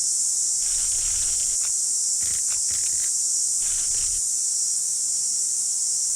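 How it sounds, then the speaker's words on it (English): A continuous high-pitched buzzing drone of cicadas fills the air, steady and loud throughout, with a few faint rustling sounds underneath. "the cicadas drill into the branches to tap it."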